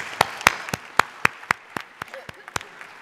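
Scattered hand claps from a small group, about a dozen sharp claps spread unevenly over three seconds, moderately close, with no talking.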